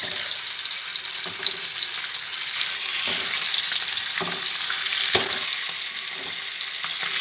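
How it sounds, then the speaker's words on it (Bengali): Eggs rubbed with turmeric and salt fry in hot oil in a kadai for an Afghani egg curry, a steady broadband sizzle running throughout with a few brief louder crackles and pops, close by and with no talking. "তেল গরম হয়ে আসছে প্রথমে ডিমগুলোকে আগে ভেজে নেব"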